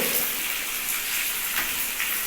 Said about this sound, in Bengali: আদা আলু একসাথে ভেজে নিই